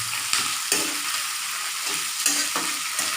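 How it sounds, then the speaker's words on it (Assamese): Onion is fried in a pan until brown, giving a steady close sizzle with occasional scraping stirs on top. "ইয়াত 7-8 মিনিটমান পিঁয়াজটো কালাৰটো ব্ৰাউন নোহোৱালৈকে আমি ফ্ৰাই কৰিছোঁ।"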